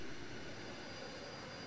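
A steady broadband jet engine roar from an aircraft in the video game Arma 3, constant and fairly loud. The engine idles or holds steady on a runway with no other sounds.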